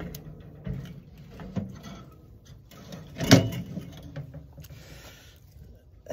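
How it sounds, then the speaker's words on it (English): A single solid thump of a heavy charcoal smoker door swinging shut, close by, standing out briefly against quiet background handling noise. "And shut this door."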